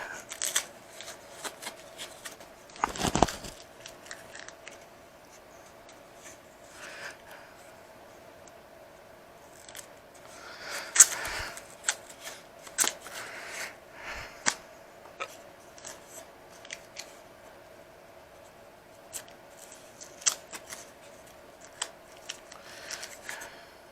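Taped wood strips for a Tipo 60 model aircraft's ailerons are unwrapped by hand: scattered crackles, rustles and tape peeling, with a couple of louder rips, close and fairly quiet.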